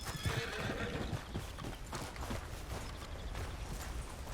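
A horse in Red Dead Redemption 2 whinnies loudly near the start while hooves clip-clop steadily underneath, with busy game ambience filling the background.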